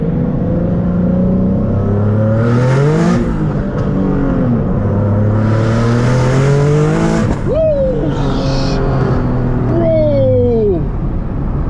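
A single-turbo Nissan 370Z Nismo on high boost accelerates hard from inside the car, its loud engine note climbing repeatedly through the gears, with brief tire squeal as it breaks traction.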